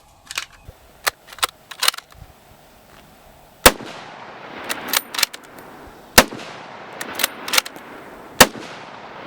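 A lightweight Steyr Scout rifle in .308 firing 180 grain Match King rounds at an outdoor range gives several sharp, loud cracks spaced seconds apart, with quieter pops and clatter scattered between them.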